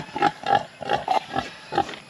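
A pig on a provincial farm grunts in a quick series of short, close, nasal snorts with brief pauses between them, heard clearly and without talk.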